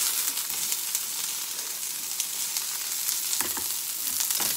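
Onions frying in oil in a pan for a sautéed zucchini dish, a steady hissing sizzle heard up close with a few faint stirring scrapes near the end.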